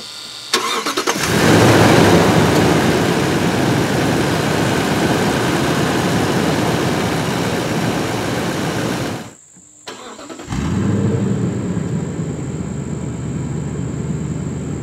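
A 2016–2017 Lexus LX570, Land Cruiser-based SUV, started by push button: the starter cranks briefly, the engine catches with a loud roar, settles into a steady idle, then cuts out and restarts to idle again, close and without talk.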